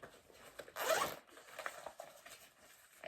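A short zipper pull on the small front zip pocket of a fanny pack carried as hiking gear: one quick rasping zip, close and fairly loud, followed by faint handling rustles.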